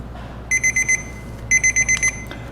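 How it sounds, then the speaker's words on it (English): A kitchen timer goes off while browned butter chocolate chip cookies are made, two bursts of four quick, shrill, evenly spaced beeps, loud and close. "Set your 3-minute timer again."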